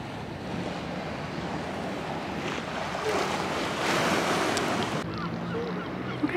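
Sea waves wash against the shore at Paignton Beach, Devon, in a steady rushing surge, swelling louder midway, with wind buffeting the microphone.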